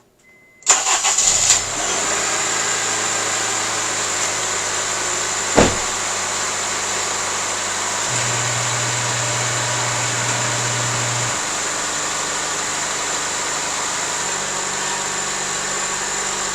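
A Honda CR-V with a suspected fuel system fault cranks and starts, then settles into a steady, even idle heard close up, with a single brief knock partway through.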